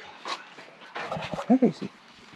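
A dog in a shop while a Subaru Brat is fixed up pants and whimpers close by, breathy puffs and a short pair of high whines mixed in with people talking.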